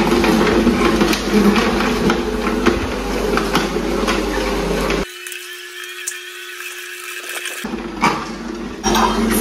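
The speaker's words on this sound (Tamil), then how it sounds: "இது வந்து ஸ்லோவா அரைஞ்சு மேக்ஸிமம் ஜூஸ் வந்து உங்களோட ஃப்ரூட்ஸ் வெஜிடபிள்ஸ்ல இருந்து எக்ஸ்ட்ராக்ட்" A Hamilton Beach cold press slow juicer grinds gooseberry, mint and ginger with a loud, steady mechanical whir and crunching, briefly switching to a thinner humming tone before the heavy grinding returns.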